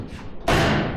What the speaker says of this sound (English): I was having to close the door to check my gap.